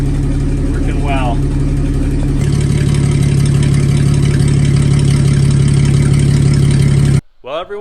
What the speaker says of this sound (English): We got a good running motor now.